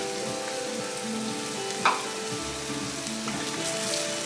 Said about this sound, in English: Make sure the heat is on high right now, because our goal is to thicken the sauce.